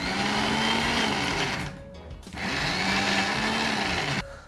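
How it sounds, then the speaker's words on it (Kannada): A mixer grinder dry-grinds masala with soaked tamarind and no water, a loud steady whirring motor that stops briefly midway, then runs again before cutting off near the end. "ಇದನ್ನ ಇವಾಗ ರುಬ್ಕೋಬೇಕು ನಾವು ಹಾಕಿರೋ ಮಸಾಲೆ ಎಲ್ಲ"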